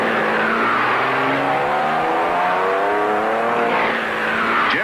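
1960s race cars roar past at full speed during the 1962 Daytona Continental, loud engine notes rising and falling as they pass close by in a continuous stream, with no talk.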